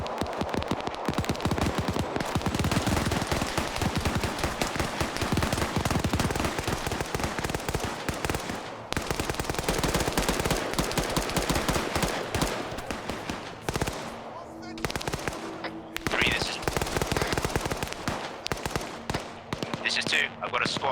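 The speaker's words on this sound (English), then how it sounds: "Don't know why I was shooting at that direction." Rapid bursts of automatic rifle fire and single shots in a military shooter game, loud and nearly continuous with short pauses, a few game voices and radio chatter mixed in.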